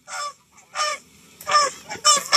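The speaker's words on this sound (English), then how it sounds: "so those geese in the air, that's where the noise is coming from." Geese honking in flight overhead, several loud, nasal calls in quick succession over about two seconds, with short gaps between honks and no talking.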